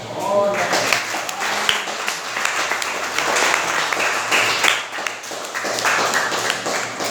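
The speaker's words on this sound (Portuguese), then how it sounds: "desocupar as suas mãos e aplaudir Jesus bem forte" A church congregation claps for Jesus during a service, uneven scattered applause with occasional sharper claps, mixed under a voice speaking over it.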